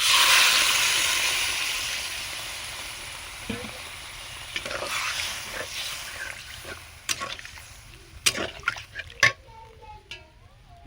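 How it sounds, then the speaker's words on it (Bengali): Water goes into a pot of hilsa fish curry with potatoes and spices, a loud hiss and sizzle at first that settles into softer bubbling, with a few sharp clinks near the end. "দেখো, এবারে আমি জল দিয়ে দিচ্ছি"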